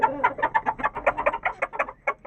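Chickens, including an aseel hen, cluck and squawk in a close, busy run of short repeated calls with a few brief pauses.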